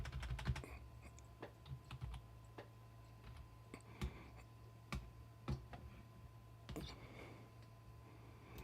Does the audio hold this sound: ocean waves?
no